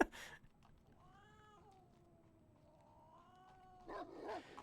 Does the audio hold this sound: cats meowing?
yes